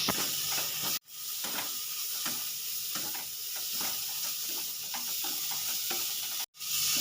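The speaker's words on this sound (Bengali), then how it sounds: "এবার চিংড়ি মাছটা আমি দুই থেকে তিন মিনিট ভালো করে ফ্রাই করে নেব" Prawns fry in a pan with a continuous close hiss and sizzle, broken by faint stirring taps and two brief moments of silence.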